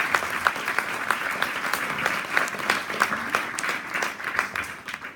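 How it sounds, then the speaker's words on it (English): Audience at a Langholm election hustings giving the candidates a round of applause, a dense, even burst of clapping from the room that holds steady and begins to thin toward the end. "would you please give our candidates a round of applause?"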